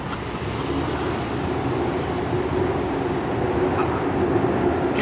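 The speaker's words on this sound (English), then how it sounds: "Like when the sky trains and the car is passing." A SkyTrain passing overhead with car traffic below, a steady loud rumbling roar that sounds close and continuous throughout, with no talking.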